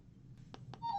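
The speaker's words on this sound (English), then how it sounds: "Oh, excuse me. That's my phone." A mobile phone goes off faintly indoors: a few short electronic blips, then a sustained ringtone note rising in at the very end.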